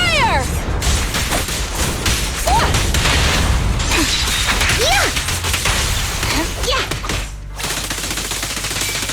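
Rapid gunfire in the Zenless Zone Zero video game, loud sustained bursts of shots with mechanical clatter and crashing impacts, continuing for several seconds before a brief drop, with a voice heard amid the action.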